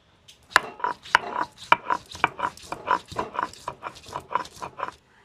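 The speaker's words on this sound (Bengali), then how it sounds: "আদা রসুনটা প্রথমে বেটে নেব।" Ginger and garlic being ground into a paste, a rapid series of rough rubbing and knocking strokes in a steady rhythm, close up and moderately loud, with no voices.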